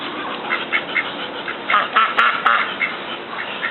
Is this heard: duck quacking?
yes